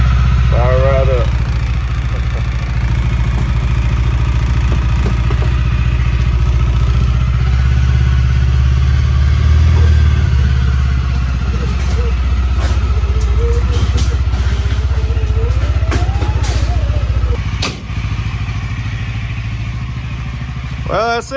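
A 2022 CFMOTO UFORCE utility vehicle engine running after a cold start, a loud close steady idle with a low throbbing drone and mechanical clatter, with someone talking over it.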